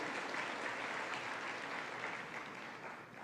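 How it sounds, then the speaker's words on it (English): A dinner audience at a manufacturers' association awards evening applauds a featured speaker, a dense, even wash of clapping from a large room that fades slightly toward the end. "Let's give him a round of applause."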